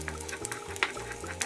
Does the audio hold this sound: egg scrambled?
yes